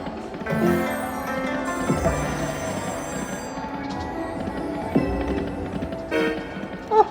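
A Dragon Train slot machine plays its train-horn toots and chiming bell jingles in a loud, busy casino mix, with bursts of electronic tones rising and falling throughout.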